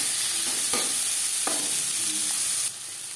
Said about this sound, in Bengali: পেঁয়াজ আমি হালকা করে ভেজে নেব